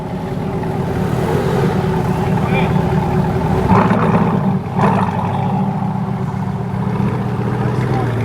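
A sports car engine idles and purrs steadily at a busy outdoor cars-and-coffee gathering, close and continuous, with people talking nearby.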